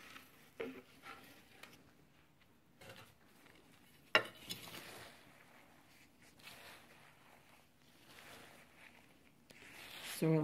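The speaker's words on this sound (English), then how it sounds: "let me mix this soil with the other" Hypertufa soil is stirred and scraped by hand in a container in soft, intermittent gritty bursts, quiet and close, with one sharper knock partway through and a brief voice near the end.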